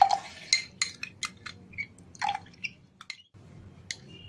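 Mint mixture and sugar syrup go into a glass over ice cubes for a homemade summer drink, giving close, quiet wet drips, soft squishes and light glass-and-spoon clinks in an irregular sequence.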